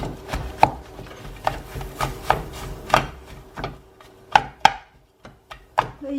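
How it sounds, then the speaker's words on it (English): Vegan scrambled eggs made without tofu are mashed up in an oiled pan, giving a series of irregular sharp taps and scrapes of a utensil against the pan, close and fairly loud. "do the scramble bit where you just kind of start mashing it up like it's a scrambled egg"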